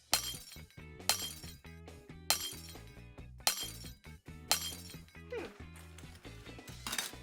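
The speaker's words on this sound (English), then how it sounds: "put on your safety goggles and break the glass" Glass is smashed repeatedly during a kids' stage show, about seven sharp shattering crashes at irregular intervals, each followed by tinkling shards, over music in the background.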